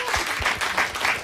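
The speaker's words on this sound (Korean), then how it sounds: "박수 치실 일은 아닙니다." An audience at a Korean political talk show applauds in a short burst of clapping, heard fairly close.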